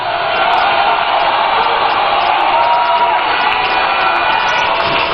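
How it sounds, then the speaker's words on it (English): A large crowd cheers and applauds at a political rally for a party manifesto presentation, a loud, continuous roar of voices and clapping with whoops throughout. "a round of applause for the Member of Parliament for the good people of Tamale South, Honorable Haruna Idrisu."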